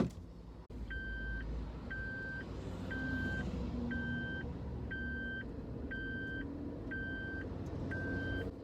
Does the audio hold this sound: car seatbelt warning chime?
yes